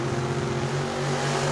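Datsun and Pontiac drag cars launch side by side at a dragstrip, giving a short burst of loud, harmonically rich engine drone with a steady low buzz.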